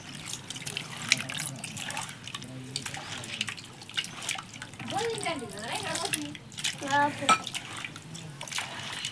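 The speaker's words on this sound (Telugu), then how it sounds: "మిక్సీ జార్లోకి వాటర్ అయితే పోసేస్తున్నాడు" Water splashes and gurgles into a mixer grinder jar in short bursts, with people talking nearby over the pouring.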